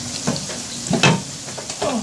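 Fried meat pieces drop one by one into sizzling masala in a frying pan, each bringing a louder burst of crackle over a steady fry, with soft utensil knocks.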